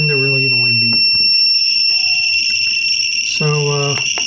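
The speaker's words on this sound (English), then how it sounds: "and a really annoying beep." A shrill electronic alarm from a Mazur PRM 9000 radiation meter reading over 1,250 microsieverts an hour beeps continuously at a high pitch, loud and close, while a person talks briefly at the start and again near the end.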